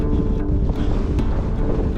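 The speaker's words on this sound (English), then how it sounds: "Proper windy here." Wind buffeting a microphone on a sailing trip in the Canary Islands, a steady, loud, rumbling roar with continuous low buffeting and no pause throughout.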